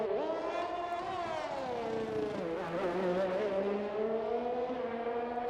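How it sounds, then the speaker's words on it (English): An AlphaTauri Honda Formula-style racing car in a racing video game at the Russia circuit holds a steady, loud engine whine that dips and climbs in pitch as it shifts down and back up through the last corners. "Now the AlphaTauri Honda coming down to the last two corners."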